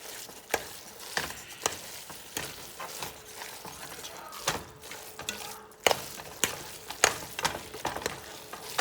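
Shrimp spaghetti being stirred in its sauce in a pan, with soft wet scraping and sharp utensil clicks repeating every second or so over a low simmer.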